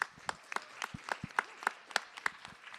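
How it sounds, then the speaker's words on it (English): Small symposium audience applauding the panelists with sparse, separate claps at an uneven rhythm, fairly faint and thin, with no talk. "One more round of applause for the panelists."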